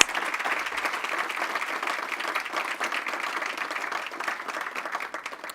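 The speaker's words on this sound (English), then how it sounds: "let's give them a round of applause" Steady audience applause fills the room at an event honoring women leaders, a dense even clatter of many hands sustained throughout at moderate level with no speech over it.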